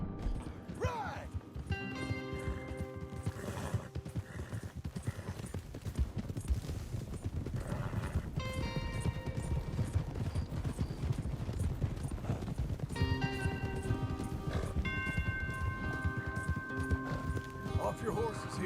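Horse hooves clip-clop in a steady galloping rhythm over the Red Dead Redemption 2 soundtrack, with a horse whinnying and voices talking over it.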